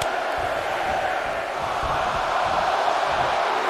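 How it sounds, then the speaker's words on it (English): A roaring arena crowd at a wrestling match in WWE 2K22 gameplay, a dense, steady wall of cheering and yelling that stays loud and unbroken throughout. "The sound of this crowd is deafening"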